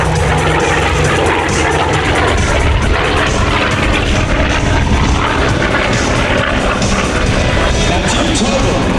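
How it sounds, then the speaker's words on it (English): Aircraft engine roar at a 2019 Marine Corps Air Station Beaufort air show, loud and steady throughout with a broad, dense rumble and no break, while a voice speaks over it. "as well is the history of this remarkable aircraft"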